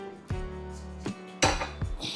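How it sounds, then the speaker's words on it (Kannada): A metal cooking pot is set down on a hard kitchen surface. Several sharp clanks and clinks land close by at irregular intervals, with no voices. "ಇನ್ನೊಂದು ಪಾತ್ರೆ ಇಡ್ತೀನಿ."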